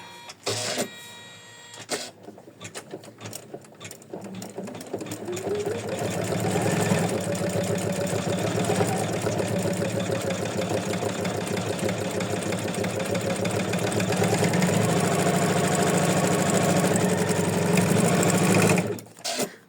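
An embroidery machine stitches the outlines of a 4x4 in-the-hoop soul sister heart design, a steady loud mechanical whirr with rapid rhythmic needle chatter running continuously before it stops abruptly near the end.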